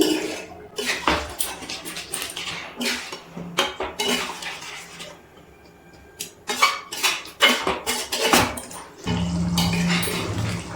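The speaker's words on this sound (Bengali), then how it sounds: "এবার খুব ভালো করে সব কিছু মিশিয়ে নিচ্ছি" A spoon scraping and clanking against a kadai while chicken curry is stirred with hot water, giving irregular close metallic knocks and scrapes that stop briefly midway, then a wet sloshing stir at the end.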